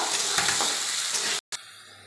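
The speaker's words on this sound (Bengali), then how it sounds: "ভালো করে ভেজে নেব।" Potatoes fry in a pan with a constant bright sizzle and faint stirring. A sudden cut of silence is followed by a quieter, thinner hiss.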